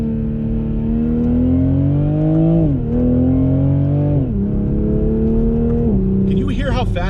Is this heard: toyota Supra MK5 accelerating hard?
yes